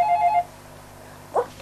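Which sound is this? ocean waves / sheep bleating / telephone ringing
telephone ringing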